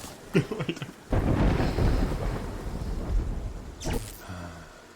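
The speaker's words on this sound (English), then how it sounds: "Hey game, you wanna stop raining, please? Wanna stop raining? Or at least, fuck off with the thunder and lightning." Rain and thunder in the video game Terraria: a sudden rolling thunder rumble over steady rainfall, with a few short game sounds before and after it.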